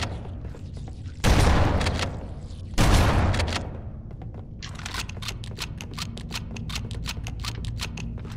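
A shotgun fires in Halo: Combat Evolved, two loud, close blasts a little over a second apart, each with a roaring tail, followed by a run of quick mechanical clicks and rattles.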